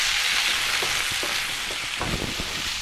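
Ingredients for an anchovy brinjal curry, including fenugreek, mustard seeds and coriander seeds, fry in a pan with a steady, crackling sizzle broken by a few sharper pops and spatters, close and fairly loud.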